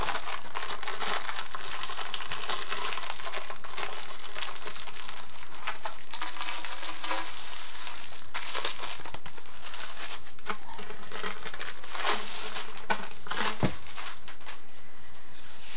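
Alice in Wonderland themed wrapping paper, thin and papery, crinkles and rustles steadily for the whole stretch, close up and fairly loud, with sharper crumpling bursts now and then and no talking.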